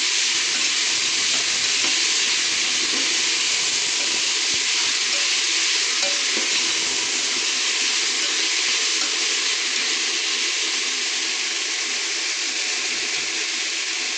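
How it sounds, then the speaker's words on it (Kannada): Mixed vegetables, salt and spices fry in oil for a vegetable pulao, giving a continuous even sizzle with faint scraping and stirring throughout, close and unbroken. "ಫ್ರೈ ಮಾಡ್ಕೊಳ್ಳೋಣ ಎಣ್ಣೆಯಲ್ಲಿ"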